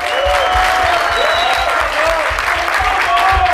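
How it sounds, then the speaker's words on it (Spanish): Loud sustained applause and cheering from the crowd at a freestyle rap battle for one of the competing rappers, with whistles rising above the clapping and voices in the mix. "Ok, quiero aplausos para Soco"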